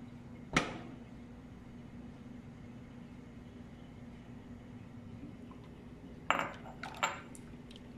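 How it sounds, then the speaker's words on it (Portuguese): A spoon stirs hot chocolate thickened with starch in a pan, giving a sharp utensil clink early on and a few more scraping clinks near the end over a low, steady background hum. "Agora é só mexer."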